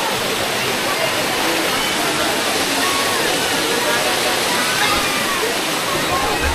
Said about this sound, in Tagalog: yan pala yung falls Ito pala ang falls.